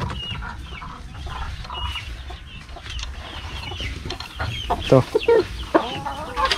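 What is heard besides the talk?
kabir free-range chickens clucking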